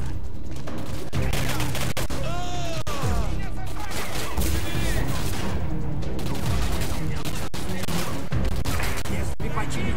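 Gunfire in the shooter game Singularity: rapid bursts of shots and fusillades crackle close and loud throughout, mixed with impacts, shouts and a dense, chaotic combat soundscape.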